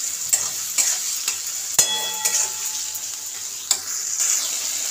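Salted tomatoes softening in a frying pan for potato curry, stirred with a spatula: a constant close sizzle punctuated by sharp metallic scrapes and taps, one ringing clank standing out.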